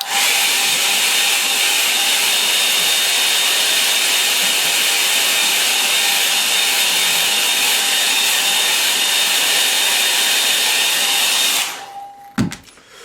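A hair dryer blows loudly and steadily on wet paint, a constant close roar that cuts off abruptly near the end, followed by a few brief clunks.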